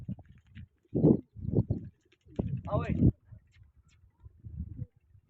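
Pigeons cooing in soft, low, throaty bursts, close by, repeating at intervals over a few seconds with a little background noise.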